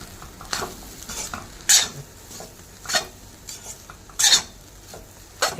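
A utensil scrapes and clanks against a pan while egg fried rice with coriander is stirred, a soft sizzle running underneath and several sharp metallic scrapes spaced a second or so apart.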